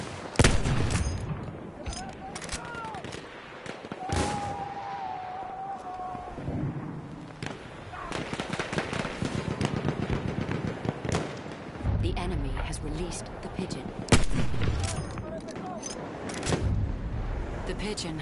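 Machine-gun fire in a PS4 video game: dense, rapid bursts of shots mixed with booms and battle noise, sustained throughout at moderate loudness, with a voice speaking over the gunfire.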